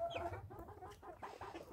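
Young roosters and hens about three and a half months old cluck softly in a poultry flock, a few overlapping bird calls repeating close by at low volume with no talk.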